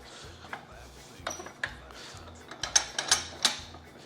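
A bench vise being loosened on a 1932 Ford wishbone from the front suspension, giving a series of small metallic clicks and ratcheting ticks that quicken toward the end, fairly faint and close, with no talking.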